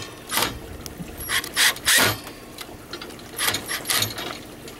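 Fasteners are slowly worked into the connecting rod of a Hoss wheel hoe, giving a few close bursts of ratcheting, clicking mechanical sound over a quiet background.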